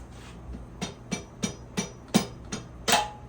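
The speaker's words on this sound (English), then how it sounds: "I may have to tap it with the rubber hammer." A rubber hammer taps a bolt into place on a Trail Master MB200II, eight light, evenly paced knocks, close and fairly soft in a quiet space.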